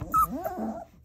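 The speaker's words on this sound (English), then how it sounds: "Baccio, why are you complaining" A four-week-old puppy gives a short, close, high-pitched whimper that rises and falls in a single brief whine, with no other voices.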